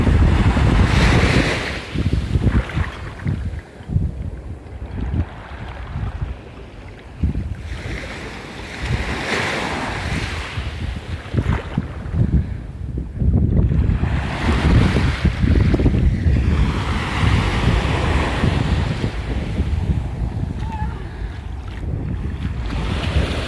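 Atlantic Ocean waves roll and crash onto a beach while gusty wind buffets the microphone, forming a loud, continuous roar that swells and recedes over about twenty seconds.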